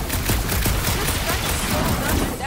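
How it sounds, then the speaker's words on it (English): In the Guardians of the Galaxy video game, rapid gunfire bursts crackle at a gunked-up reactor, a dense, loud volley of shots that runs without a break and is mixed with game sound and some voice. "A couple of shots should bring it down."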